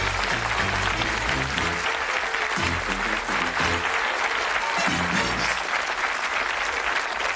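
Studio audience on the UK game show Bullseye applauding the contestants, loud sustained clapping with a low musical backing underneath, no voices standing out.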